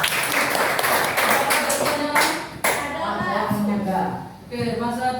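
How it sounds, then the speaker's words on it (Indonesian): A classroom group claps for a student presentation group, with close, sharp hand claps early on that fade as voices talk over them. "Oke, beri tepuk tangan untuk kelompok 2."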